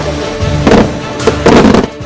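Taiwanese artillery cannons fire shells at sea in a series of heavy, loud booms, two main blasts with a rumbling tail, standing close and alone with no speech over them.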